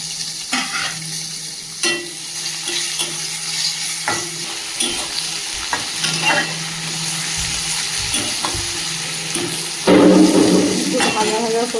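Whole garlic, bay leaf and chopped onion sizzling in hot oil in a pan, with a steady close fry hiss broken by repeated scrapes and clinks of a stirring spoon against the metal.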